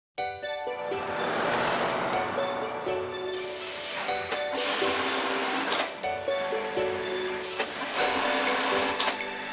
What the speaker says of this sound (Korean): 재봉틀이 가쁜 숨을 내며 쉴 새 없이 돌아갑니다